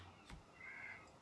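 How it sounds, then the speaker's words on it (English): Crow in the Valheim video game gives a faint, distant drawn-out caw over quiet ambient background, with soft clicks at the edges. "Bird."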